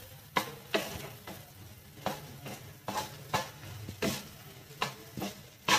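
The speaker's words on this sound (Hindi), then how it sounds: "ये हम मीडियम आंच पर भून रहे हैं," Grated potatoes for halwa roast in a pan over medium heat, with a spatula scraping and stirring in regular strokes roughly every half second over a low sizzle, close and alone with no voices.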